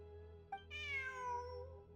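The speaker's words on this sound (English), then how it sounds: "Alright, there's the cat." A cat in a video game gives a short chirp and then a drawn-out, falling meow, clear and close over a low steady background hum, with no talking.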